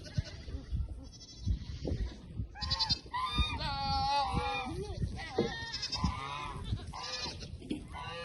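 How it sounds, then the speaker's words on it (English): Geese honk and squawk repeatedly at moderate distance on a farm at sunset, a noisy overlapping chorus with other farm animal calls mixed in. "We got everybody, including the geese, squawking."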